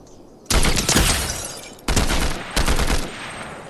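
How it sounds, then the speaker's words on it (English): Automatic gunfire in a video game firefight: loud, sustained bursts of rapid shots in three long volleys separated by short gaps, close and dominant with no voices over them. "Somebody's shooting."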